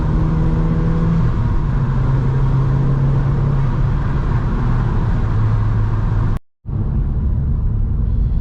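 A Seat Leon Cupra R Mk1 accelerates hard through second gear, its engine a loud, steady near rumble with rising tones, cut by a brief silent gap near the end before the drone resumes.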